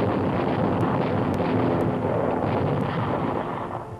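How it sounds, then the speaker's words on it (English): Heavy gunfire from the WWII battleship Tirpitz, including its 15-inch guns, during an air attack in a Norwegian fjord: a dense, rumbling roar of blasts and concussive booms on a scratchy old newsreel soundtrack. "The Tirpitz is mortally hit, but replies with everything, including 15-inch guns"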